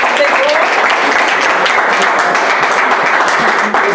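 Loud congregational applause in a church during a Bible study service, a continuous dense clapping from a crowd with voices audible within it.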